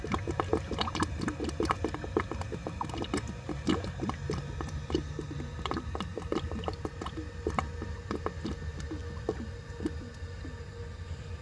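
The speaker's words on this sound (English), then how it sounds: "Can't miss that gurgle though." A 1930 Eljer Sanus toilet refilling after a flush, with continuous close bubbling gurgles and irregular wet pops over a steady trickle of running water.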